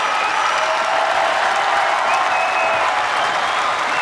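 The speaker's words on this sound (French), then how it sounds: "Tonnerre d'applaudissements" Thunderous applause from a huge crowd at a presidential campaign rally in the Zénith arena in Paris, a dense, loud, continuous roar of clapping and cheering.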